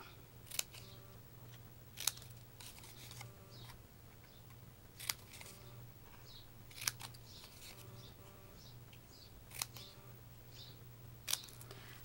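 Scissors snip card for a handmade cake card, a series of faint, sharp cuts spaced every second or two over a low steady hum in a quiet room.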